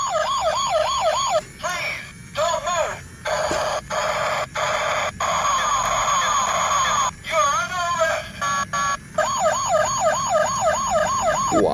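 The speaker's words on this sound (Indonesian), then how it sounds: "Ada mobil polisi patrol." A toy police patrol car blares an electronic siren, cycling wailing tones that cut on and off in choppy bursts, loud and close.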